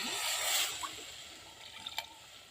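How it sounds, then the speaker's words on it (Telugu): Tomato juice poured into a pan of simmering fish curry on a low flame, a faint liquid trickle with a few soft drips and splashes, quiet and close, with no talking. "ఇప్పుడు దీంట్లో అయితే నేను టమాటా రసం వేసుకుంటున్నాను"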